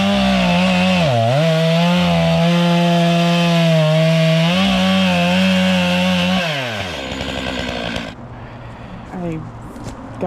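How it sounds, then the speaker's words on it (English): A big chainsaw cuts tree stumps on a hillside, its engine droning loud and close with a strong steady whine that dips briefly under load, then drops away into quieter rattling near the end. "He's got the big chainsaw up on the hill, and he's going to flatten out some stumps."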